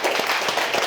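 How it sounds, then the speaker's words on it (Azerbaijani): A studio audience on a comedy talk show claps in a brief, dense burst of applause. "Alqışlayaq."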